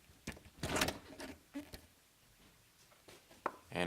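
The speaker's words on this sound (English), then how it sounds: "and pull the airbox out" A plastic air intake box being pulled out of a Chevrolet Cruze engine bay, heard as several sharp plastic knocks and scrapes in close succession, with brief pauses between them.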